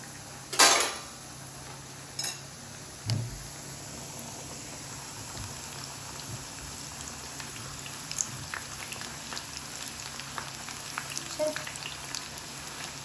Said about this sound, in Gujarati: ધીમા તાપે તળાઈને કડક થશે.